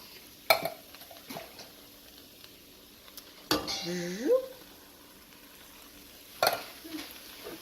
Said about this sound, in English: And then you're going to stir all this up.